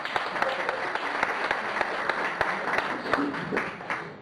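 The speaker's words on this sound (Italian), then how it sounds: "Un applauso per la giovane assistente!" An audience at a public water-themed event applauds a young assistant, a dense, steady burst of many hands clapping throughout.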